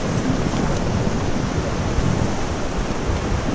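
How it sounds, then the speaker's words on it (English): A whitewater rapid on the Salmon River rushes in a loud, continuous roar of churning water, dense and unbroken from start to finish. "right around this corner, we got a big old piece of cake rapid"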